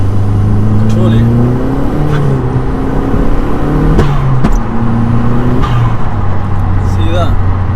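Audi S3 replica car accelerating hard in third gear at night, a loud steady engine drone with rising and falling pitch as the revs climb and shift, heard from inside the car.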